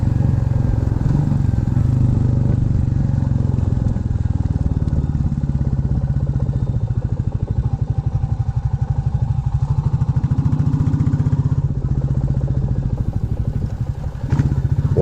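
A Royal Enfield 350 Classic motorcycle fitted with a decat exhaust pipe runs steadily and loudly up close, its deep thumping exhaust beat continuous throughout.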